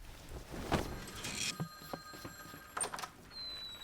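A telephone bell ringing persistently in a quiet room at night, bright metallic rings in bursts with brief gaps, fairly close and clear, no talking.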